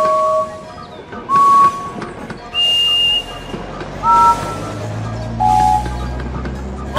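Steam engine whistles from a Thomas & Friends video game sound in a series of short, clear toots, each a bright sustained tone, loud and alone over a low rolling train background.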